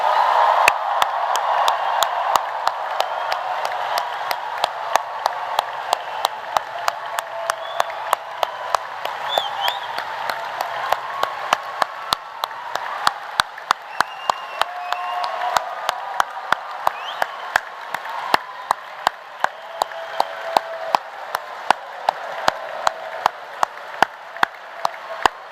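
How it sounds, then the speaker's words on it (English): Enormous round of applause from a graduation ceremony audience for a UCL medicine class of 2023, a sustained, even roar of many hands filling the hall, with faint cheers and whoops rising here and there. "give an enormous round of applause for our class of 2023"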